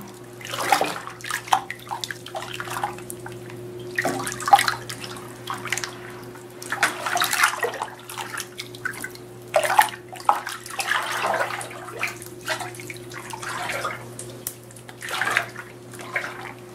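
Bath water in a tub being stirred by hand around a dissolving green fairy bath bomb, with repeated sloshing swishes and splashes in irregular bursts over a steady low hum, close with no speech.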